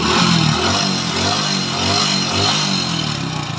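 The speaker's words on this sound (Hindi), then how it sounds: "ये देखें इंजन की साउंड।" A motorcycle engine runs steadily at idle nearby, a continuous throbbing rumble with a faint whine on top.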